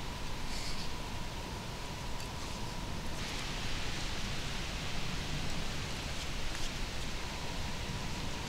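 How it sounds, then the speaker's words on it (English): Light rain falls steadily on public hunting land, a continuous soft hiss of patter that stays even throughout with no voices. "A little bit of rain."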